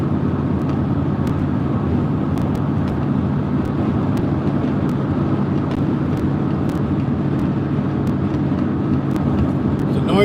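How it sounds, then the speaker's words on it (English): A noisy truck gives a steady, loud engine and road drone with no break, along with faint intermittent clicks. "It's a noisy truck."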